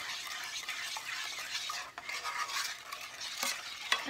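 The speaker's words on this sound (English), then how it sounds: "I'm just going to stir this all together." A spoon stirs a cabbage roll mixture with brown sugar in a pot, giving soft scraping and shuffling sounds with a few sharp clinks against the pot, close up and without talk.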